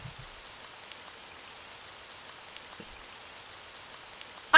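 Steady rain falls in a video game scene as a soft, even hiss with faint scattered drops. It is quiet and unbroken until a sudden loud burst at the very end.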